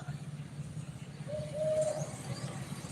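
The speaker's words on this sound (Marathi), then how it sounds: "हे कोकिळा आहे" An Asian koel gives a single rising, whistled call at moderate distance, set over a steady low background hum with no talking.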